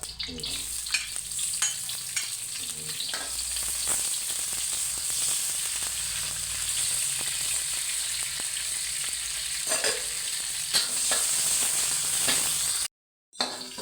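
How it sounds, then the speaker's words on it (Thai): Chilies dry-roasting in a wok for crispy fried catfish with chili and garlic: a steady, close sizzle and crackle runs throughout, with scraping stir strokes and a brief drop to near silence near the end. "ผมก็จะคั่วพริกให้เขามีความสุกในประมาณขนาดนี้นะครับ"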